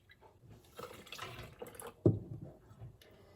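A cup of water is poured into a Thermomix for a banana gummy recipe, a soft, brief trickle and splash with one sharper slosh near the middle, quiet and close with no talk.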